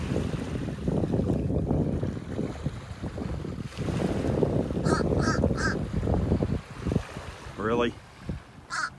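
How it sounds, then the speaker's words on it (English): A crow on a beach in North Naples, Florida, gives a short run of about three harsh caws, then one more, over steady wind and surf while someone talks nearby. "Old crow sitting over here."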